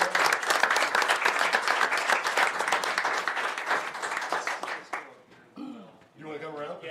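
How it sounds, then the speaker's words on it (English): Board meeting attendees break into steady applause, a dense continuous patter of many hands at moderate loudness that tapers off after about five seconds, giving way to scattered voices and light chatter. "We should probably clap for that."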